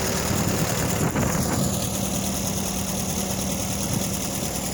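A DC4 tractor engine runs steadily at a plow day event, giving a continuous rumbling idle with an even, unbroken drone throughout.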